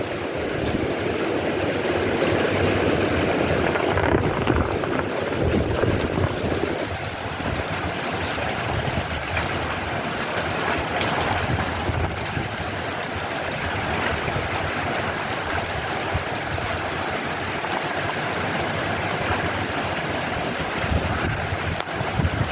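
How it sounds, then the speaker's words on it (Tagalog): Strong typhoon wind gusts and heavy rain roar steadily on a fifth-floor veranda, buffeting the microphone with constant loud rushing noise and no voices. "Medyo malakas na ang ulan at yung hangin medyo malakas na rin."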